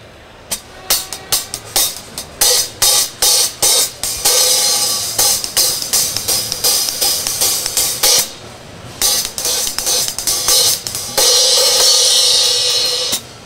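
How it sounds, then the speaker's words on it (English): A pair of Zildjian 16-inch K Light hi-hats is played in a rapid, steady pattern of bright crisp chicks and washy open hits, loud and close with short pauses between phrases. "So let me play these hi-hats."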